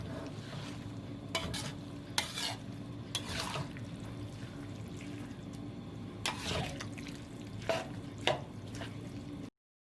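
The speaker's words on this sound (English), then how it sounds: "Add it bit by bit while you keep stir-frying." Steady sizzling in a pan with repeated scraping strokes of a utensil stir-frying radish with a flour mixture for turnip cake, close and moderately loud.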